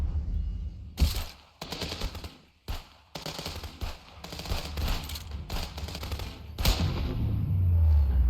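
Gunfire from the video game Contraband Police, with a sniper engaging: repeated loud, close bursts and sharp shots in irregular clusters, some isolated heavy reports, and a sustained rumble near the end.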